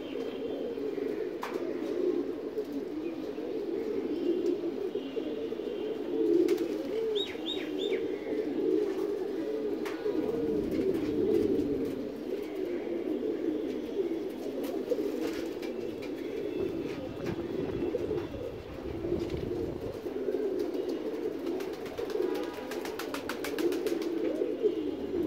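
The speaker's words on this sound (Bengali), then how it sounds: "দেখুন এই যে আমার ভামে সব জ্বালালি কবুতর বসতেছে" Jalali pigeons cooing steadily on a rooftop perch, a dense low murmur of many birds running throughout, with occasional brief chirps from other birds above it and no talking.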